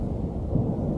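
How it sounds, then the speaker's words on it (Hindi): Thunder from storm clouds over a mountain village rumbles low and steady for a moment, a deep continuous roll with no voices. "इतने खतरनाक बादल गरज रहे हैं।"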